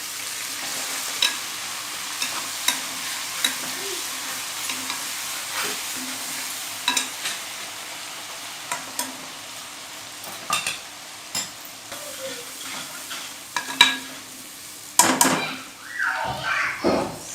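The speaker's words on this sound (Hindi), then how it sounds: "अब हम इसमें लहसुन अदरक का पेस्ट डाल रहे हैं।" Garlic ginger paste frying with fried onions in a pan for a chicken bukhara dish. There is a soft steady sizzle with occasional stirring clinks and scrapes of a utensil, and bursts of louder sizzling toward the end.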